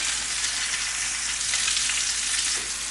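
Lamb shanks browning in a hot pan give a loud, steady sizzle and crackle of frying fat that runs unbroken and close from start to finish, with no voices over it.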